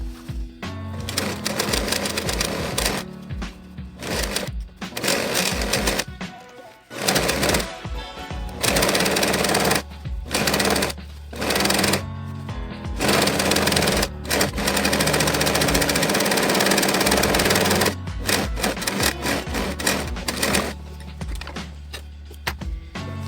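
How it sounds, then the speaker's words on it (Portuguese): A sewing machine stitching lastex elastic thread, a loud close motor whir that runs in long stretches, broken by short pauses and brief stops. "Eu vou dar o retrocesso aqui da mesma forma e costuro normalmente, me guiando."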